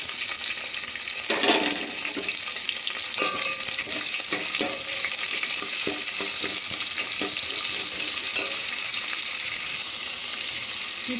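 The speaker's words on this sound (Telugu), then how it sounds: "ఉల్లిపాయ ముక్కలు వేసుకోవాలి." Onion pieces frying in hot oil for a chicken curry, a steady broadband sizzle running throughout with occasional stirring clatters, loud and close with no talk.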